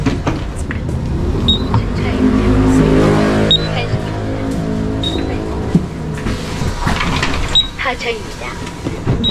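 A city bus in Hwaseong, South Korea pulls up to a stop with a steady engine rumble and a brief hiss, while someone talks over the traffic noise throughout.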